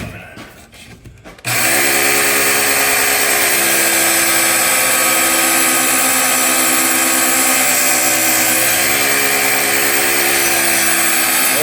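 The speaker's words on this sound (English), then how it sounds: "Got some coarse paper on here. We'll see how this goes here." An axe blade is sharpened against coarse sandpaper on a powered sander, giving a loud, continuous abrasive whir that starts abruptly after a short quiet moment and holds steady to the end.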